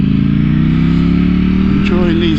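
A Ducati V4 motorcycle rumbles loudly and steadily while riding through bends, with a deep constant engine drone and a faint pitch shift near the end.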